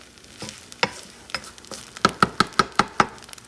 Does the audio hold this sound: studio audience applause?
no